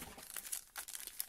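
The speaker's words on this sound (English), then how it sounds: "Ripping out six packs," Panini Prizm basketball card packs are torn open by hand, giving a close, quick run of crinkling foil wrapper and short tearing rips with no talking.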